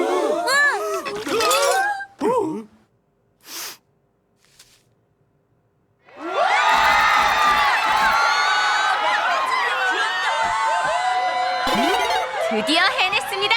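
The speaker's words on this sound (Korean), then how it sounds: "관객들도 뜨겁게 환호하네요" A crowd cheers loudly in a cartoon about a cute panda, a sustained roar of whoops and shouts that runs on for several seconds after a brief crashing clink and a quiet pause.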